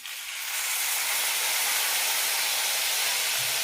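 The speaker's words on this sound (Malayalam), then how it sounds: "ഇനി ഇതിലേക്ക് പുളി ഒഴിക്കാം." Tamarind water poured into a hot pan of masala for an okra curry, setting off a sudden loud broadband hiss that rises within half a second and stays steady to the end, with no talk.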